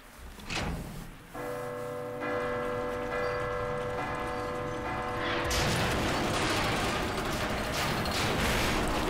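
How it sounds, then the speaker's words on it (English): Gear-and-bell puzzle mechanism in Resident Evil 2: a brief clunk, then sustained ringing bell-like tones with layered harmonics, giving way to a loud grinding, crashing mechanical rumble that continues to the end. "And the bell's broken again."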